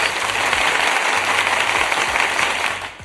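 Dense, steady applause from a crowd, loud and continuous with no talk, tapering off in the final moment.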